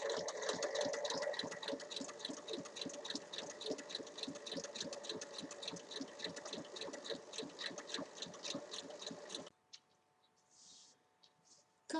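A sewing machine runs a long steady seam, stitching a zipper face down onto fabric for a two-pocket zip pouch, a fast even rattle of needle strokes that stops abruptly near the end, leaving near silence.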